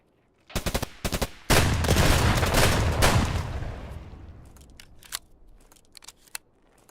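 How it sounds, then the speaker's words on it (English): Gunfire in the video game Escape From Tarkov: two quick pairs of sharp shots, then a loud sustained automatic burst that decays into scattered single cracks trailing off, with no talk. "We're shooting someone else."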